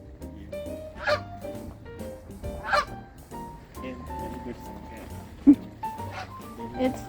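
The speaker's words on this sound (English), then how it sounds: "Isa Canada goose." Canada geese at a bird sanctuary in Neepawa give several honks spread across the clip, fairly close but moderate in level, with faint voices and outdoor background.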